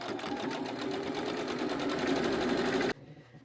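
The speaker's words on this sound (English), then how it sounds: "you'll sew them in rows and then sew the rows together." A sewing machine runs steadily, stitching rows of a quilt block together, a close, continuous motor hum with rapid needle pulses for about three seconds before stopping abruptly.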